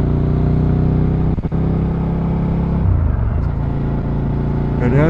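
A 2025 Suzuki SV 650 motorcycle engine pulling from very low speed in third gear, a steady close rumbling drone that briefly dips, then swells as it picks up revs.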